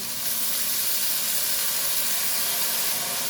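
Spices such as turmeric, red chilli powder and sugar in a hot pan hiss and sizzle loudly as a little water is poured in, a dense, continuous, close steamy crackle with no talk.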